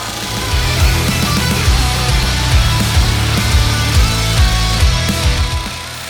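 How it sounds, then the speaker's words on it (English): A disc grinder flattens knife handle scales in a loud, continuous grind, with pulsing rhythmic surges as the scales are pressed against the disc. "the best way to get something flat is with a disc grinder like I'm using here"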